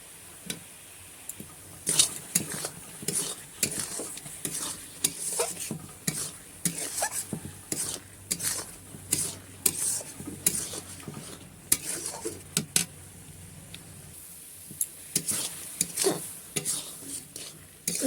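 A spoon stirs chopped dates into boiled tomatoes for a Bengali-style tomato chutney. Soft scrapes and clinks against the pot repeat irregularly close by over a faint bubbling sizzle.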